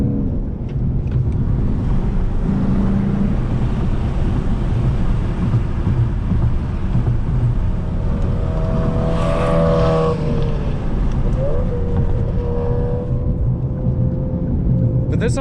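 Lexus RC F with a 4.6-litre V8 on a race track, rumbling loudly and continuously from inside the car, its engine tone rising and shifting as it accelerates, with heavy low-end roar and some wind buffeting.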